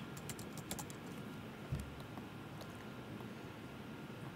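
Soft, fast clicking of keys on a computer keyboard as words are typed, a quick irregular run of light taps close by and fairly quiet, with one heavier thump midway, no talking.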